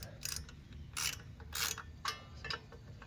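Quarter-inch bolts being loosened from the muffler of a Bolens 450E lawnmower, with several short, quiet ratcheting bursts spaced irregularly and no talk.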